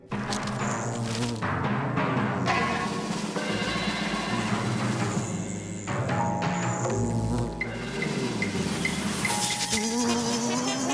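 Mosquito buzzing in a French animated short film, a thin whining drone that rises and fades over busy music and other cartoon sounds.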